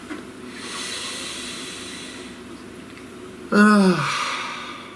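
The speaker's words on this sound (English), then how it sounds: "Please take a nice deep breath." A single deep breath, a long soft inhale and hiss followed by a louder, close, sighing exhale near the end.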